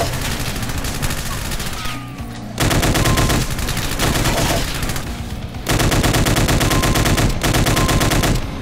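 Chaingunner enemies fire chain guns in a Doom mod, on a Plutonia Experiment map. The automatic fire is dense and sustained, loud and continuous, and grows heavier partway through.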